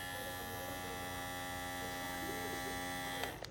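A REDbyKiss cordless hair clipper running, a steady, fairly quiet electric hum with a buzzing motor tone held for a few seconds before a small click near the end.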